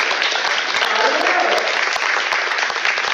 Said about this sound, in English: Let's give our moderators a round of applause.